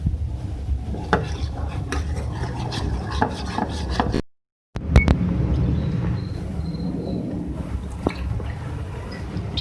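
A spoon scrapes and rubs through thick white sauce for chicken cutlets in a pan, giving continuous close scraping strokes with some clinks, broken by a brief silent gap.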